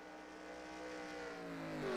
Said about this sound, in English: Still hear the engine. Thing's still under power.